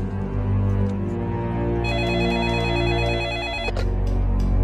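A telephone rings repeatedly in a steady electronic pattern, close and loud over a low musical bed, during a Marathi film scene about calling the police.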